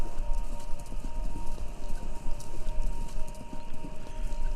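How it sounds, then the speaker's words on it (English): Continuous clip-clop of horse hooves at a steady trotting rhythm over a radio station in the video game Kentucky Route 0, with a faint electronic hum underneath. "It sounds like horses."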